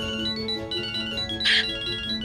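A phone ringtone plays a repeating electronic melody at steady volume, with a brief burst of noise midway and no talking.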